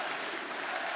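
A Counter-Strike crowd at IEM Katowice 2019 cheers and applauds in a dense, continuous roar that fills a large arena for about a second.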